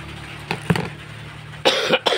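A few short coughs sound at close range, two faint bursts early and a louder, rougher pair near the end.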